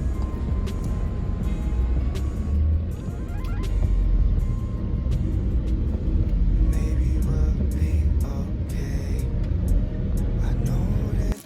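Car driving fast along a road, a loud continuous low engine and tyre rumble with wind noise, steady throughout and heard from inside the vehicle.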